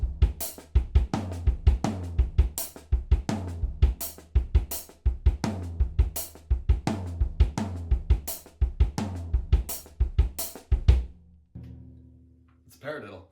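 Drum kit plays a slowed-down paradiddle split between floor tom and hi-hat with steady double bass-drum kicks, a loud repeating pattern of deep thuds and crisp hat ticks that stops near the end, followed by a brief ringing decay.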